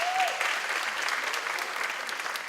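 An audience at a lounge event claps steadily, a thick unbroken wash of many hands applauding at close range with no pauses.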